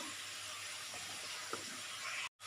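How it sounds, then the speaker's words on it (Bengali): Food frying in a pan with turmeric for a Bengali fish curry, a steady close sizzling hiss that runs without pause before cutting off abruptly near the end. "এটাকে একটু ভালো করে ভেজে নেবো"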